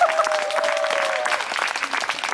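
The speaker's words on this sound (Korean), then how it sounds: "요즘 되면 박수를 쳐줘야 됩니다." Lively audience applause at a Korean traditional pungmul plate-spinning performance, many hands clapping loudly and steadily, with a brief sustained tone from a voice or instrument at the start fading under the clapping.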